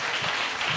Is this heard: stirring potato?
no